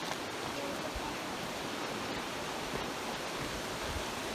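A stream flows in a constant, dense hiss near a bridge, steady and fairly close with no other sounds standing out.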